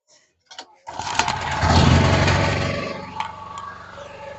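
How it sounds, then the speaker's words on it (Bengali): A generator engine cranks and catches after a couple of short tugs, then roars up loudly and settles into a steady running rumble. "আমরা জেনারেটরটিকে স্টার্ট করে নিই"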